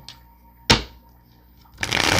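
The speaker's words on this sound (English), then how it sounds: "so let's get my clarifying cards shuffled here." Tarot cards being shuffled in the hands, a soft riffle followed by a sharp crisp snap of cards and then a rising, sustained flutter of cards at close range with no voices.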